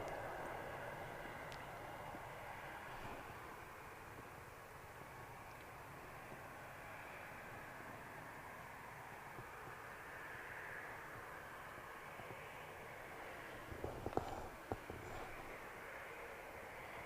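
Flight BBC 207 from Sylhet, an airliner at Manchester Airport, gives a low, steady jet roar that holds for the whole stretch, moderately distant, with a brief clattering thump near the end.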